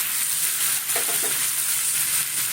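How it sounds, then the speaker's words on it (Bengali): Pre-fried potato and taro pieces tossed into a cooked-down spice masala, giving a bright, continuous close sizzle with a few soft stirring scrapes through it. "আলু আর কচু যে ভেজে রেখেছিলাম সেটা দিয়ে দিচ্ছি"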